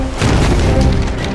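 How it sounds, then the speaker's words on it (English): A cannon fires at a shipwreck in the pirate game The Legend of Pirates Online, giving a loud, full-bodied boom that rolls on for about a second. "Now grab a cannon and keep an eye peeled for trouble. All right. Go ahead and practice shooting that wreck yonder."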